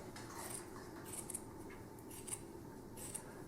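Scissors cutting down through a shirt, faint repeated snips and fabric rustle at close range in a quiet room.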